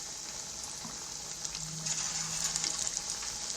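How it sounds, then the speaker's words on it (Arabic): Rice kofta frying in plenty of hot oil, a faint steady hiss and soft crackle of sizzling throughout, with a few small pops and no talk. "نقلي الكفته بالشكل ده كده. لازم يكون زيت غزير عشان تتقلي كويس"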